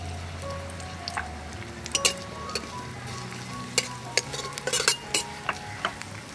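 Chopped onion sizzles and fries in hot oil while a spoon stirs it, with scattered sharp clicks of utensil against pan over a steady crackling hiss; up close, and no one talks.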